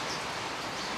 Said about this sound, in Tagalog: Bumuhos ay napakalakas na ulan.